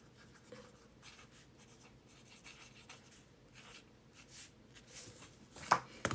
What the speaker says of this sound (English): I'm gonna write it down because I'll forget.